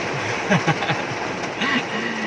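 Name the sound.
heavy rain drumming on car roof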